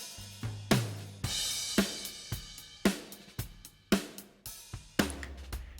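Drum kit picked up through overhead microphones, with crashing cymbals washing over sharp snare cracks and low kick thumps in a steady groove, airy and roomy, compressed, no voices.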